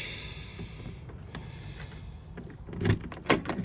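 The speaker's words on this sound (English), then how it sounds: "And let's open the door." Door of a 2003 Roadtrek 200 Versatile camper van being opened on a rainy day, a soft mechanical rattle of the handle and latch giving way to a louder clunk and thud near the end, recorded close up.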